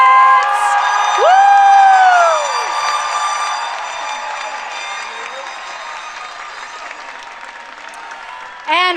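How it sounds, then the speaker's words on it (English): Applause, cheers and whoops from a large crowd honoring graduates at the 2024 Marshall Fundamental School commencement ceremony, loud at first with tonal shrieks, then a steady wash of clapping that thins gradually over several seconds. "How about another round of applause for our amazing graduates?"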